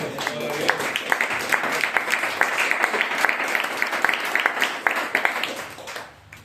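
A church congregation applauds together during a sermon, a steady wash of many hands clapping with sharp individual claps popping through, holding evenly before thinning out at the end.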